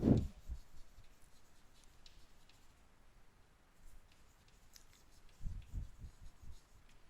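Pen or chalk strokes on a board or paper during a maths lesson: faint scratchy taps and short strokes, with a firmer burst at the start and another cluster near the end, no talk over them.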